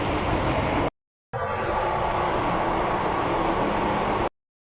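Inside a moving Hong Kong MTR train, a steady, dense rumble and hiss of the carriage fills the space, broken by a brief gap of silence before resuming.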